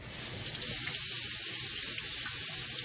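Water pours steadily from a tap into a pot of rice being cooked for arroz con habichuelas, a continuous close splashing rush that starts within the first second and runs throughout.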